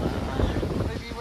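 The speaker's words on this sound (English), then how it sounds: "Wow, the wind." Strong wind buffets the microphone on a mountain hike in Kirirom National Park, Cambodia, producing a loud, continuous low rumble throughout.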